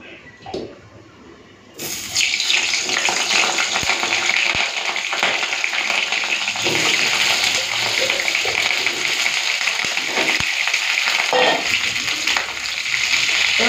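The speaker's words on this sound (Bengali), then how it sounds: "এখন ফুলকপি আর আলুটা প্রথমে ভেজে নিই" Cauliflower and potato pieces dropped into hot oil in a wok, setting off a sudden loud, steady sizzle that continues close and unbroken, with occasional stirring taps.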